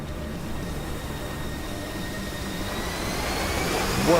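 Steady broadband jet engine roar from an aircraft departing runway 30, holding level throughout and swelling slightly toward the end, with a faint high whine above the rumble.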